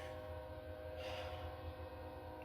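A long, sustained train horn blares steadily over a low rumble of passing rail cars, with no talk over it.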